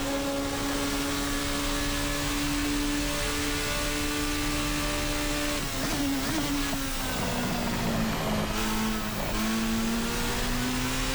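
Formula RSS Supreme race car engine in Assetto Corsa, a steady loud whine that holds pitch, then dips and wavers before climbing again as the throttle is laid on, with continuous broadband road and wind noise throughout.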